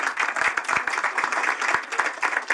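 Audience applause at a French political campaign meeting: a dense, steady crackle of many hands clapping together, fairly loud and continuous for the whole stretch with no voice over it.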